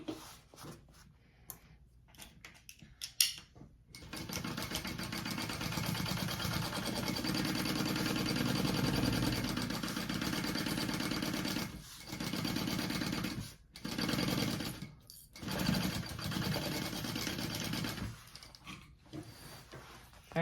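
A sewing machine stitches bag lining pieces, running in a close, steady mechanical chatter for several seconds, then stopping and restarting in a few shorter bursts.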